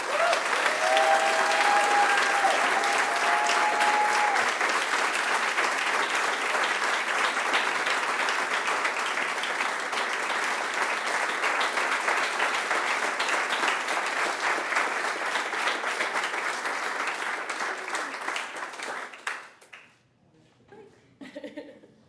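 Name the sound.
audience applause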